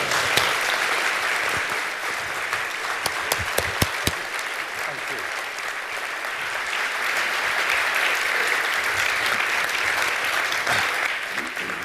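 An audience at an evening lecture in Cambridge applauds steadily to welcome the speaker, a dense continuous clapping from a sizable crowd with a few sharper claps standing out early on.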